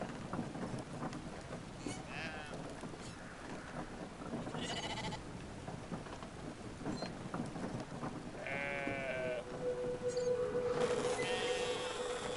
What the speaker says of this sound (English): I pet the sheep.